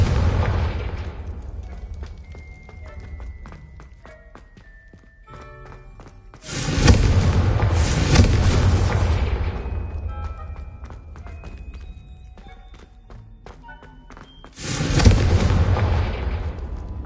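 Confringo fire spell explosions in Hogwarts Legacy burst as two heavy booming blasts with long roaring rumbles, separated by quieter stretches of scattered game effects and short tonal chimes.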